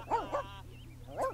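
A cartoonish dog in a pet show video game gives a few short yips and barks, spaced apart and fairly quiet over a steady low game hum.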